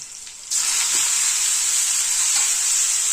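Cauliflower florets hit a hot pan with a sudden loud hiss at about half a second, then fry in a steady close sizzle with faint stirring scrapes and no voices.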